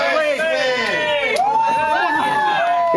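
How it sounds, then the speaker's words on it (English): Concert crowd at a rock show in Örebro cheering loudly after a name is called, a dense, sustained wash of whoops and shouts lasting the whole moment. "It wasn't the biggest cheer. No, but it was a cheer."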